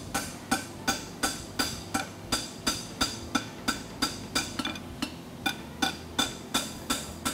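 A blacksmith's hammer strikes hot metal while forging a draft horseshoe, in a steady rhythm, around twenty evenly spaced, ringing blows close by with no talking.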